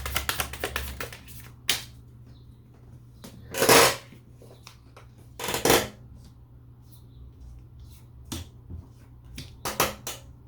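Tarot cards being shuffled in a few quick riffling bursts, separated by soft scattered clicks and taps, close by against a quiet background.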